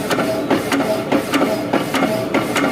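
Mechanical hacksaw slowly sawing a steel shaft, each reciprocating stroke giving a sharp metallic rasp and knock in a regular, even cycle, loud and near with a constant machine hum beneath.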